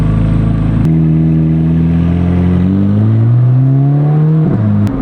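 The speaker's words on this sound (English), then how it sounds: "the flat plane V8 in this sounds way better than the regular V8 in that" A Corvette C8 Z06's flat-plane V8 revs loud and close, its tone rising steadily through the rev before a quick drop, then settling into a lower drone.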